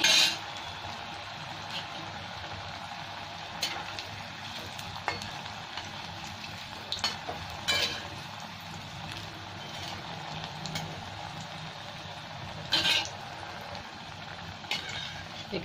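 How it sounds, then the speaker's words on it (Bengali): Pieces for a jackfruit (echor) cutlet recipe fry in hot oil with a steady, soft sizzle, broken by occasional sharp clinks of a utensil against the pan. "তেল আমার গরম হয়ে গেছে, এবার আমি মাছগুলো ভেজে নিচ্ছি"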